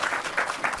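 A room of people claps briefly and faintly for an honoree at a diversity program gathering. The applause is a short, soft patter with light pulsing.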